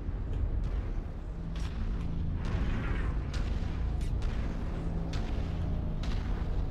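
A tank blown up in the video game MechWarrior, a heavy, continuous rumbling blast with repeated sharp cracks and thuds layered over a steady low roar.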